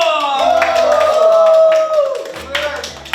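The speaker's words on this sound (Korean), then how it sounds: "박수!" Clapping from a K-pop group backstage after their first fan concert in Japan, quick claps heard through a sustained tonal sound, with voices present.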